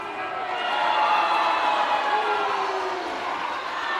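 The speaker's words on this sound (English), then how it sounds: "Few boos in the crowd" A crowd at a mixed netball national final lets out a sustained, fairly loud wash of booing and murmuring that swells and holds steady throughout.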